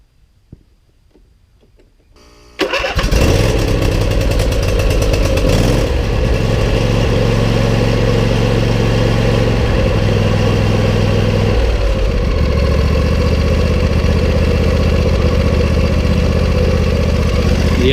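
A Husqvarna YTH22V46 yard tractor engine cranks and catches after a quiet start, then settles into a steady, loud, close idle that holds unbroken to the end.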